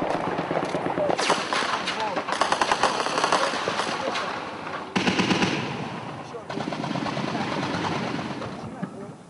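Rapid machine-gun fire and scattered shots during combat in Libya, dense and close at first, then continuing in bursts with an abrupt loud surge midway, under a voice talking in French.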